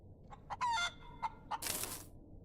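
A video-game chicken on a stick, loud squawks and clucks in a few quick bursts that end in a harsh, noisy screech, heard alone over a faint hum.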